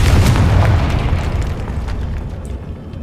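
A Confringo spell explosion in the Hogwarts Legacy video game booms loudly, a single heavy blast with a rumbling low-end tail fading over a few seconds.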